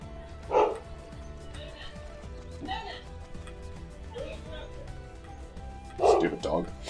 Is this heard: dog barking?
yes